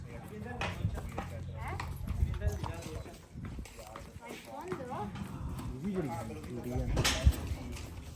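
Horse hooves clip-clop in an uneven, steady beat close by on a horse farm at Isola di Albarella, Italy, with people's voices talking over them throughout.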